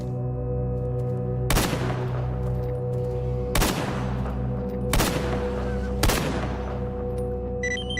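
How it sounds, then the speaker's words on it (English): Four sharp, separate shotgun blasts ring out in Stalker GAMMA at uneven intervals, each a loud crack with a decaying tail over a constant droning hum. "I have one shot left in the shotgun."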